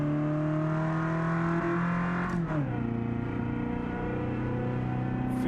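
The Aviator car launches on a quarter-mile drag race run, its engine droning loudly and steadily, then a brief dip at a gear shift before the roar resumes, close and sustained with no voices.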